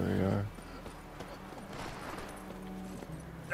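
Hooves clip-clop steadily as a horse arrives when called in the video game The Witcher 3: The Wild Hunt, a brief whinny standing out at the start, with game ambience behind.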